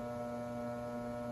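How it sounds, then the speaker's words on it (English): Steady electrical buzzing hum from the contactor of a Generac 24kW standby generator installation, loud and continuous with a strong tonal drone, heard alone without talk. "my contactor setup works fine. That's the important part, but it makes a lot of noise"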